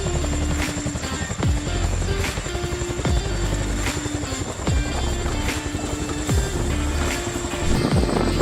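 A firefighting helicopter thunders close by, its rotor beating in a steady rapid chop under a loud whining turbine, sustained and powerful throughout.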